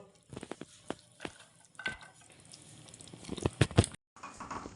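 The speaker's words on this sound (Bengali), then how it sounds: "বিনসগুলো দিয়ে এবার নাড়াচাড়া করে আবার ঢাকা দিয়ে ফুটতে দেবো।" Green beans are stirred into a boiling stew in a pot, giving irregular clanks and scrapes of a spoon with wet bubbling and squishing underneath, close and fairly quiet, no talk.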